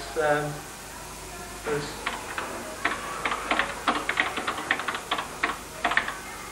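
Typing on a 1986 classroom computer keyboard: a quick run of sharp, irregular key clicks at close range, with a voice speaking briefly at the start.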